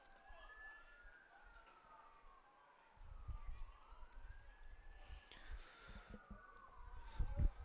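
Distant emergency vehicle sirens wail and sweep up and down in pitch throughout, faint behind low rumbling background noise and some nearby movement at a baseball field.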